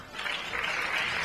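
An audience at a comedy sketch show claps in a short, dense burst of applause that fills the space evenly, moderately loud and without voices.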